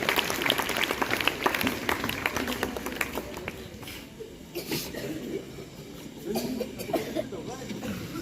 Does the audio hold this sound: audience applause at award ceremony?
yes